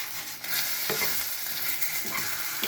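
Potatoes and egg are stirred in a hot frying pan, a close, steady sizzle broken by repeated scraping strokes of the spatula, with no one talking.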